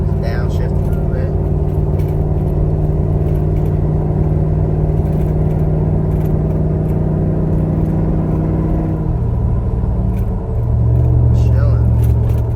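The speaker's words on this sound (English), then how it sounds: "Let's say I want to pass somebody on the freeway, you know, downshift a little bit." A cammed 5.7-liter Hemi engine in a Ram truck drones steadily at freeway cruise, then its low rumble deepens and swells near the end as the truck downshifts to pass.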